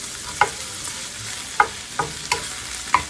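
Pancetta sautéing in a pan for amatriciana sauce, a low steady sizzle under a few sharp scrapes and clicks of stirring spaced irregularly, with no talking.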